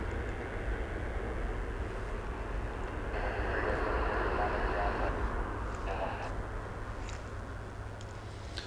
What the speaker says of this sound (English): you can hear the reverse thrusters